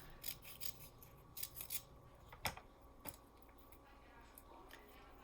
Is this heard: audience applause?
no